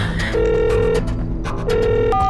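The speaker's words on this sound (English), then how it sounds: "Let me just call somebody up." A phone ringing in GTA 5 as the caller waits, with two long steady ring tones separated by a pause, clear and close over faint game background, with no talking.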